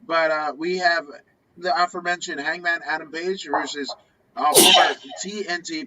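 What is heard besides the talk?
sneeze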